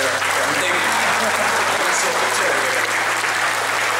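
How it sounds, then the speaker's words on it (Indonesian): Audience applause for a professor giving a lecture on strategic information systems, a steady broadband wash of clapping that fills the room throughout, with a low hum underneath. "Tepuk tangan untuk saya."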